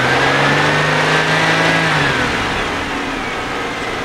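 A car engine revs under throttle, a loud steady drone with rising and falling pitch that eases down toward the end, close by with no talk.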